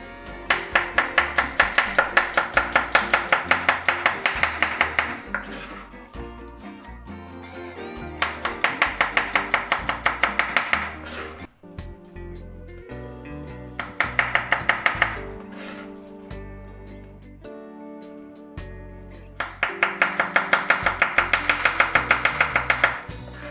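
A knife chops chicken into six pieces on a cutting board, heard as four bursts of rapid, steady, close-up chopping strokes with short pauses between them.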